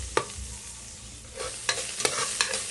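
Garlic and onion aromatics sautéing in a little cooking oil, a soft sizzle broken by several sharp scraping stirs of a spatula against the pan, close up and without speech.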